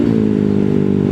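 New motorcycle with an RR tune revving hard, a loud, close, steady engine roar with dense low harmonics holding through the whole short burst, no talking.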